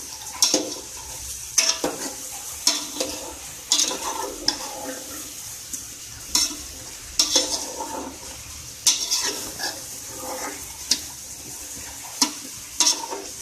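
Masala paste frying for a fish and potato curry: an even sizzle under repeated sharp spoon scrapes and knocks against the pot at an irregular pace, close and clear, with no voices.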